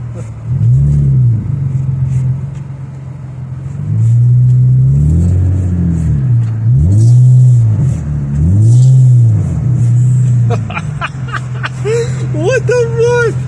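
Nissan 350Z engine revving in repeated rising and falling surges while drifting a circle in deep snow, loud and close, with a voice talking over it near the end.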